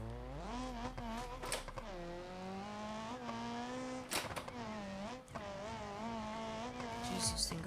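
A manual track car in a video game accelerating hard, its engine whining up through repeated gear changes with rising and falling pitch, a few sharp bursts and a tire squeal near the end, with a voice talking over it.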